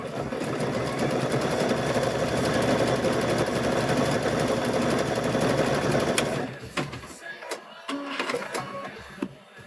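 A quilting sewing machine stitches over rope for a rope wall hanging, a loud, close, continuous rapid needle chatter for about six seconds that then stops, followed by scattered clicks and handling knocks.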